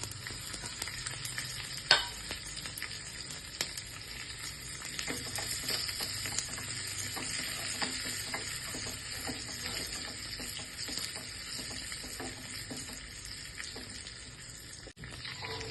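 Cumin, curry leaves and dried buttermilk chillies fry in hot oil with mustard seeds for a tempering, a steady close sizzle and crackle with occasional stirring clinks and pops, no voices.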